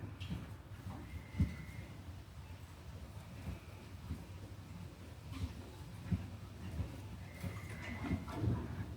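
Horses shuffle and stamp outdoors, with scattered hoof thuds and faint snorts over a steady background of ambient noise.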